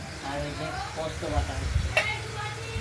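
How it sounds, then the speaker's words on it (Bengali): Pointed gourd (potol) fries in a covered kadai, a soft steady sizzle under a voice speaking Bengali, with a few low clatters and a brief sharp sputter near the end. "এটা ঢাকা দিয়ে দিলাম, কিছুটা ভাজা হতে থাকুক"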